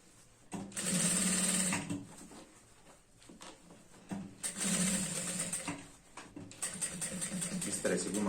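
A sewing machine stitches a skirt for an 11 to 12 year old girl. The motor runs in loud, close bursts of whirring that stop and start, with quiet pauses and handling noises in between.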